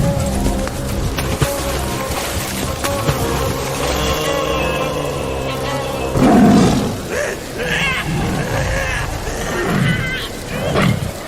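A large cartoon tiger in a Sundarbans river setting gives deep, rumbling roars and growls over background music, with frightened voices talking in between.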